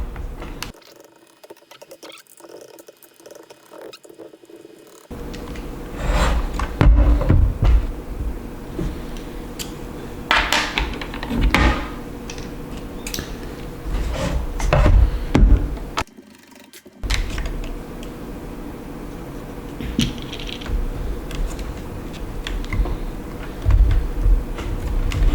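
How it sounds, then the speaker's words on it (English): Torx 8 screws being unscrewed on a Dyson V11 Outsize (SV16) stick vacuum, a run of small mechanical ticks, ratcheting and scraping clicks close up, with brief pauses and a quiet stretch near the start. "Torx number 8. To take off the screws around here."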